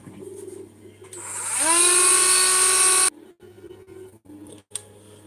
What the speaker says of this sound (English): I'm going to drill through that flat face and at an angle up into that bone.